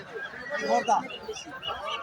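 Chinese ducks at a busy village market, the Kaikkartek haat, give nasal honking quacks in short bursts close by, mixed with people talking around them.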